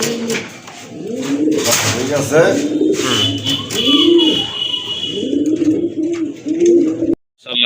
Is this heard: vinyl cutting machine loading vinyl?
no